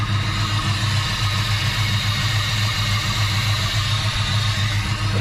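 Chevy Nova with Holley Sniper EFI, fresh wires and spark plugs, idling on a cold start, a loud steady low rumble with an even pulsing throb that carries on unbroken, up close, with no talking.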